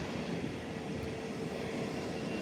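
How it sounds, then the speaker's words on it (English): Beechcraft aircraft taxiing on a taxiway, a constant distant rumbling engine drone with steady broadband noise and no distinct changes, no voices. "This one taxiing in on the taxiway."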